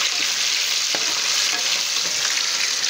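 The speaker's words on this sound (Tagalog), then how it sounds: "pag nagprito ako ng tokwa" Tofu frying in hot oil gives a steady, close, loud sizzle and crackle throughout, with a few sharper pops and no talking.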